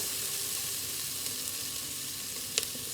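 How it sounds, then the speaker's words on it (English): Tomatoes sizzle in a pan of fish curry, a steady close-up frying hiss running throughout with a brief clink near the end, no voices. "Gonna add my tomatoes."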